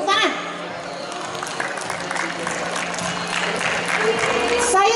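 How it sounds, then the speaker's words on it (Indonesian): A seminar audience claps and cheers in a large indoor hall, giving a dense steady wash of applause that continues for the whole stretch, with voices and shouts mixed into the crowd. "Tepuk tangan."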